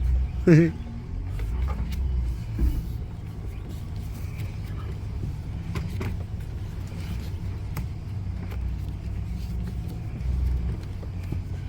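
A 2005 GMC Sierra 4x4 pickup truck drives with a steady, low engine and road rumble heard from inside the cab, starting with a brief knock or bump.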